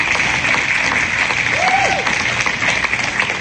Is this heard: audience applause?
yes